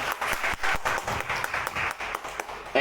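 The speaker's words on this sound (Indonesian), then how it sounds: "tepuk tangan buat beliau." An audience at a student organisation inauguration ceremony claps in a brief round of applause, close and moderately loud with clustered individual claps, fading at the end.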